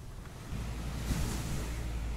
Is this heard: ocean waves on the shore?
yes